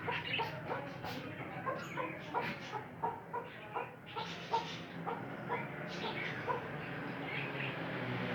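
A broody desi hen sitting on eggs clucks in a series of short, rhythmic calls, moderately close, with faint background noise throughout.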